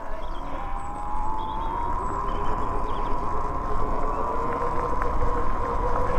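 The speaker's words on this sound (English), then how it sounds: "I get about on my electric bike" Riding a 60v 12kw Sur-ron electric bike outdoors, with a steady motor whine rising slightly in pitch over continuous wind and road rumble, constant and fairly loud throughout.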